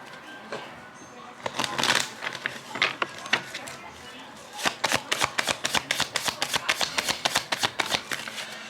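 Tarot cards being shuffled close up, quick papery riffles in bursts, then a long run of rapid, evenly spaced snapping shuffles, with no talk.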